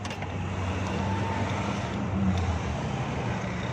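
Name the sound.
Suzuki Bolan engine running with misfire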